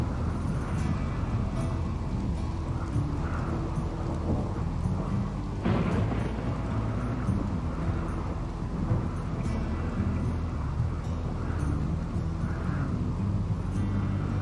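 Rain falls steadily in RimWorld, a constant hiss interrupted by a deep, rolling crack of thunder near the middle, while small game clicks and chimes sound faintly over the storm.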